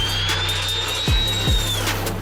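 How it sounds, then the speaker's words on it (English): A firefighting plane flies over burning forest, giving a loud, steady engine roar with a high turbine whine that slowly rises and falls, with no voices. "Look at this plane in action against the forest fires."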